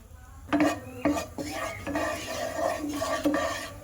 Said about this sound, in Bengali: এবার আমি ওর মধ্যে একটু সরিষার তেল দিয়ে দেবো, সামান্য 3 থেকে 4 ফোঁটা